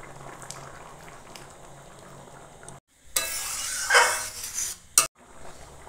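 Chana curry for chana paneer simmers in a pan with a quiet, low bubbling, broken by a brief silence and then a louder burst of hissing and pan clatter before it settles again.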